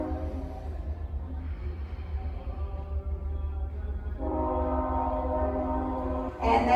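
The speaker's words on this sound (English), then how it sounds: "Hear the train." A train passing through Salina, a low continuous rumble with a horn sounding steadily in the later seconds, heard at a distance under a quiet room.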